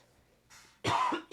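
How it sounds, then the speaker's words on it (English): A person coughs indoors: a soft breathy lead-in, then one loud, close, harsh cough, with a second cough beginning right at the end. "I was so excited it made me cough, and I didn't have time to mute."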